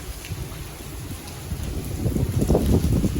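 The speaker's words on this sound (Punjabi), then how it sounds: "ਦੇਖੋ ਗੜੇ ਡੈਕ ਡੈਕ ਕੇ ਕਿਦਾਂ ਖੜਕਾ ਹੋ ਰਿਹਾ" Hailstones clattering on the roof of a car during a Punjab storm, a dense patter of impacts that swells louder and heavier toward the end, heard from close by without talk.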